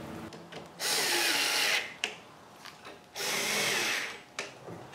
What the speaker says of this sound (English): Then I can drill for the screws